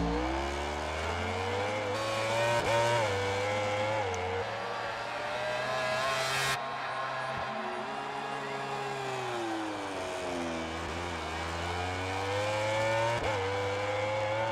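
A high-revving Suzuki MotoGP motorcycle engine in the video game MotoGP 18 drones steadily throughout, its pitch rising and falling with gear changes. It sounds loud and close, with no speech over it.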